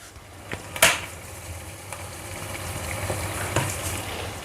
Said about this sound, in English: Stir, stir, stir, and allow it to fry